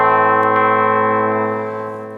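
A Schecter Banshee electric guitar plays through an ENGL rack preamp on its clean channel with the bright switch off: one struck chord rings out smoothly and slowly fades.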